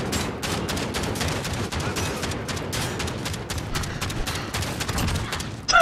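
Rapid automatic gunfire in Call of Duty Modern Warfare fills the whole stretch as dense, sharp bursts of shots at a steady loud level.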